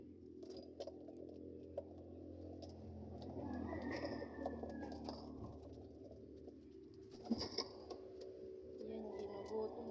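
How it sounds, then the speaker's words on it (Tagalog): Pigeons, including Grizzles, coo in soft low rolling calls, several overlapping at a moderate distance over faint ticking, with quiet speech nearby. "Yan mga kalapatids. Papakita ko sa inyo."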